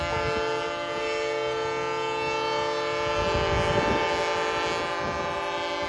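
A train horn blares in a long sustained chord, loud and steady throughout, with rumbling rail traffic and crowd noise swelling underneath, at a farmer protest.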